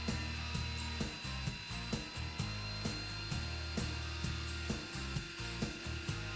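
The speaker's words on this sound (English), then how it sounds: "Since the planer is referencing off of the MDF, it will perfectly flatten the top of the cherry." Woodworking planer running across a cherry wood countertop held on an MDF base, a loud steady mechanical roar with a repeating rhythmic thump and hum, close and continuous with no voices.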